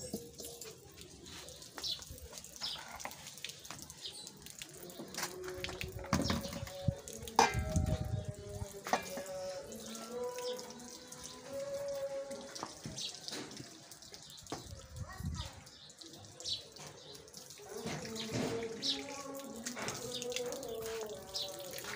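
Water pours and splashes into flour for dough in a village kitchen, running in short bursts with clattering and birds chirping faintly in the background.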